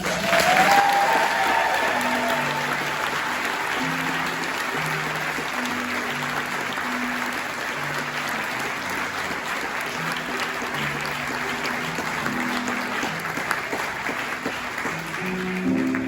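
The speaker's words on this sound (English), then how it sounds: "Clap your hands." Audience at a choir Christmas concert clapping steadily throughout, a dense, even applause with music continuing underneath.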